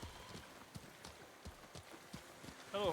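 Steady clip-clop of horse hooves in the video game Ghost of Tsushima at a trotting pace, fairly faint, ending with a short tonal chime.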